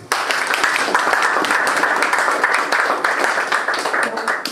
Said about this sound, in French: Applaudissons Maman Cathy